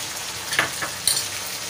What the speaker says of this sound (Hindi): इसमें ये प्याज जो हमने पीसी थी ये भी डाल देते हैं